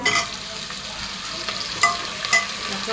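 Onion and tomato sautéing in a pan, a continuous soft sizzle broken by a few stirring scrapes and taps of a utensil, close by with no talking.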